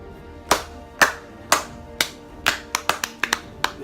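Hands clapping in a loose, uneven rhythm: several spaced single claps, then a quicker cluster of sharp claps, close and crisp with no talk.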